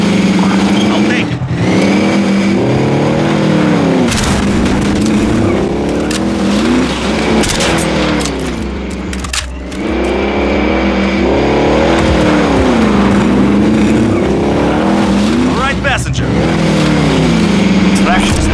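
A vehicle engine in Call of Duty Warzone revs and drives, loud rising and falling roars with repeated accelerations, while voices talk over it.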